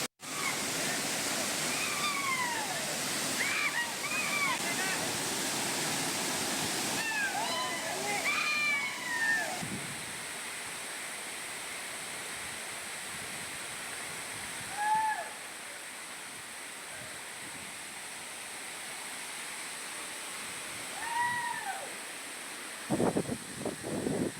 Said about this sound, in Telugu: కొండ కోనల నుంచి దట్టమైన అడవి దాటి జాలువరే జలపాతాలు